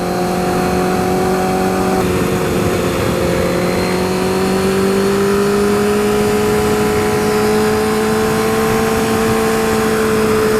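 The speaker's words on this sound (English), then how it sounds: "We got Mike S on the BMW S1000RR on the tail cam" 2012 Honda CBR 1000RR sportbike ridden on a track, its engine a loud, steady high-revving whine that climbs in pitch through the gears, close and unbroken.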